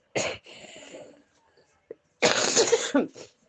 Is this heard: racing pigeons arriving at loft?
no